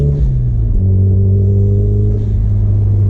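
A Toyota MR2 with a standalone ECU and blow-off valve drives along with a close, loud, steady engine rumble inside the cabin, its pitch rising gradually as it accelerates.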